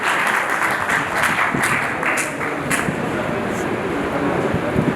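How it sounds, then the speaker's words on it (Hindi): Dense, steady applause fills an award ceremony honouring Covid-era heroes, loud and continuous from the audience for the full five seconds with no break or voice on top. "जोरदार तालियों से"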